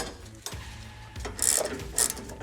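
A wrench working a bolt on the step mount under a Ford Transit van, with close metallic ratcheting clicks and scraping rubs in short bursts, no voices.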